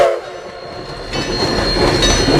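A muddy toy train being cleaned plays its electronic train effect: a loud, close rumble of rolling wheels with a sustained horn tone that grows fuller partway through.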